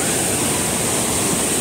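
The Sarda river flows at the India–Nepal border, a loud, dense, continuous rush of water close by, steady throughout with no pauses or voices.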